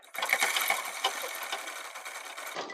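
A sewing machine runs steadily, stitching the seam of a two-year-old child's pathani kurta with a dense, continuous mechanical whir close by, with no voices present.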